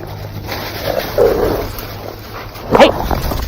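A dog barks twice in loud close bursts, a short pair near the start and a stronger bark later, over outdoor background noise during a tense encounter with a stranger's dog.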